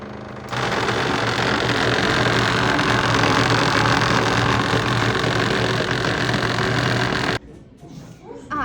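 A motor-driven device for collecting trash from the water surface runs steadily at close range, a constant droning hum with a low tonal whine that cuts off abruptly near the end.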